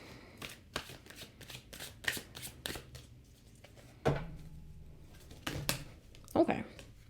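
Tarot cards are shuffled by hand in a quick run of crisp riffles and soft slaps, close and fairly quiet, with brief murmured talk in between.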